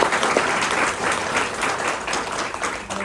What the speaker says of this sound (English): So again, big round of applause for Samrish